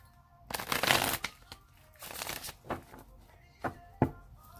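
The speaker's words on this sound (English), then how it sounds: "I'm going to shuffle it 3 more times" A deck of tarot cards being shuffled by hand, with bursts of riffling and soft slapping at uneven intervals and a few sharp taps near the end, close and clear with no talk.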